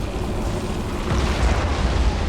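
Heavy rumbling explosions and a roaring blast, continuous and loud, as a cannon beam carves into the side of a living Tyranid Hive ship in the video game Battlefleet Gothic Armada 2.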